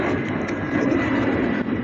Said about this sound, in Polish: Kurwa, te samoloty.